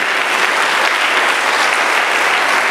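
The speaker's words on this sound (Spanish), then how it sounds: "¿Cuántos se atreven a regalarle una ofrenda de palmas al Rey?" Congregation in a Spanish-language church service applauding as an offering of praise, a dense, steady wash of clapping from many hands filling the room, loud and continuous throughout with no talking.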